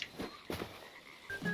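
Frogs in a video game croak softly in a quick, faint series of low calls in a quiet scene.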